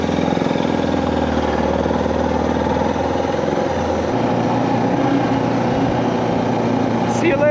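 A Suzuki DR650 adventure motorcycle's single-cylinder engine runs steadily at a loud, close low throttle, its rhythmic thrum dropping in pitch midway, with wind noise and a voice talking over it.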